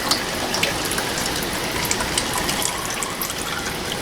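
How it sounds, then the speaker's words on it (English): Motor oil drips and trickles from the oil filter housing of a Hyundai i into a drain pan, heard as a steady, close, watery hiss with faint scattered drip ticks throughout. "this will also drip oil, so make sure you have your oil pan underneath"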